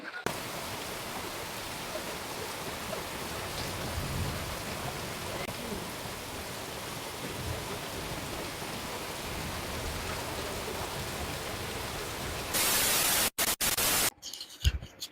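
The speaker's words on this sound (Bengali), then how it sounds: "ভয়াবহ বৃষ্টিতে আটকে গেছি আমরা সবাই" Steady, dense heavy rain hisses continuously at a moderate level over a riverside fish market on the Padma, with a brief burst of crackly noise near the end.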